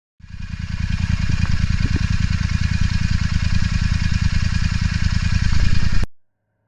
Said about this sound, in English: what they call the pea shooter exhaust. Have a listen to this. Sounds typically Royal Enfield.